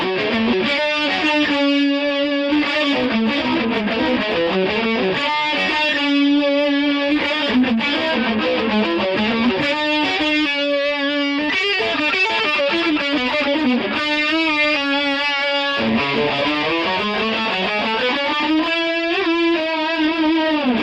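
A distorted electric guitar plays a slow harmony lick, with sustained, bending notes sliding between pitches, thick and continuous over roughly twenty seconds, with no talk.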